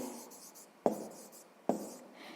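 Pen or chalk marks on a surface while numbers are written out by hand during a sixth-grade maths exercise: two sharp taps about a second apart over a faint scratching hiss, close and quiet, with no talk.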